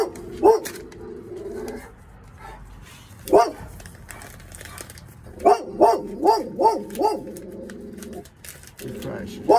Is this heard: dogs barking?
yes